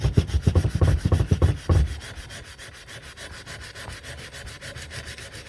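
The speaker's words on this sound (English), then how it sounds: "I use some 36 grit emery cloth" Rapid back-and-forth rubbing strokes of coarse 36-grit emery cloth against a rear brake disc on a 1996 Mazda Miata MX-5 NA 1.8, loud and close for about two seconds before fading to quiet background.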